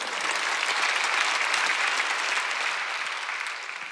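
A church congregation at a Wednesday worship service applauds together: a dense, steady wash of clapping that holds for several seconds, then tapers slightly at the end.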